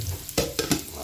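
A small splash of olive oil meets a hot, dry cast pot and crackles in a few short sizzling bursts over a steady low background hiss, close and fairly quiet.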